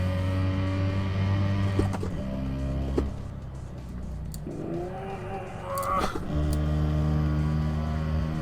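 A Kombi van's engine drones and revs hard through the gears on the Nordschleife in Assetto Corsa, with brief dips at each shift and a loud, steady, close-up tone.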